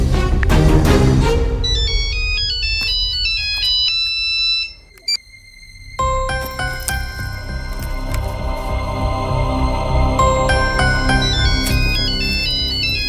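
A mobile phone plays a loud melodic ringtone: a bright chiming tune that cuts out for about a second, then starts again and repeats steadily. There is no talking.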